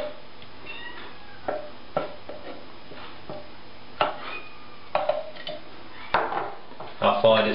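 Porridge spooned into a bowl, with scattered clinks and scrapes of a spoon against the dish and pot, irregular taps spread across the moment, and a few faint high cat-like squeaks in the background.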